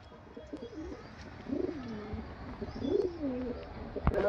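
Several pigeons at a sale of old-line flying pigeons give low, rolling coos in a few separate bursts over steady background noise, with no talk.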